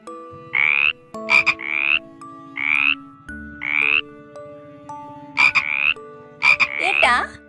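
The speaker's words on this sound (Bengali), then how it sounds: "ওই ব্যাঙ।" A frog croaks loudly and close in a steady series of rasping calls, each about half a second long, with short pauses between them and no voices.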